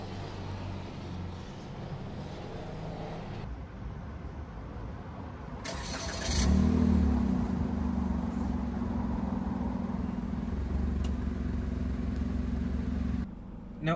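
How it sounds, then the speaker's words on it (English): A 2024 Toyota Raize with a 1.2-litre engine starts up midway through, a brief crank followed by a steady, fairly loud idle hum that continues near and alone after quieter ambient noise. "to start the engine, just put your foot on the brake and push the button to start."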